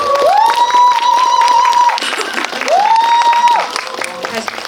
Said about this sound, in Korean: 그럼 두 분 입장하실 테니까 큰 박수로 맞이해 주세요.